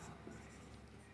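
Pen or chalk writing on a board during a physics lesson, a soft continuous scratching stroke that runs steadily at low level, ending in a brief louder scrape.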